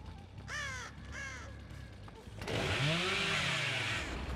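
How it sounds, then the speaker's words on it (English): Two harsh crow caws ring out in a video game against a low droning background, followed by a louder roaring buzz like a chainsaw that swells and holds to the end. "It's all birds."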